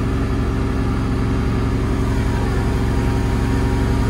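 A Kohler standby generator runs inside a Zombie Box enclosure, giving a steady, even engine hum with a constant low drone that holds at one level throughout, with no voices.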